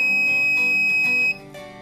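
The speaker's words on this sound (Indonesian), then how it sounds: "untuk doorbellnya ini simulasinya dengan buzzer" A buzzer standing in for a doorbell gives a loud steady electronic tone for over a second, then drops to a quieter sustained tone.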